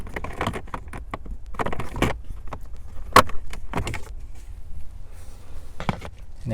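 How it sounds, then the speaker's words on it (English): Plastic clicks, rustles and a sharp snap come from pulling down the glovebox cover and unclipping two tabs to reach the cabin filter of a 2015-or-later Ford Mustang, scattered close-up handling noises with no talking. "Now we're going to just pull down the cover, and then there's two tabs that you're just going to have to pull out of the way."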